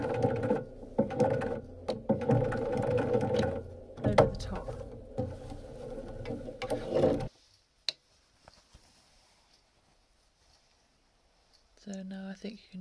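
A sewing machine stitches an invisible zip, running with a dense, busy mechanical whir for about seven seconds before falling quiet, followed by a brief faint click and a short sound near the end.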